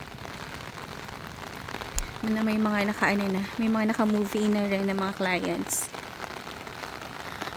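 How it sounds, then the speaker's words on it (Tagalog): Steady rain patters on an umbrella outdoors at a townhouse development, a constant close hiss that runs underneath someone speaking throughout. "Tumatagos ang ulan sa payong."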